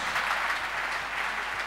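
Audience applause for Dr. Jesus at a church or ministry gathering, a steady, dense wash of many hands clapping throughout, with no pauses.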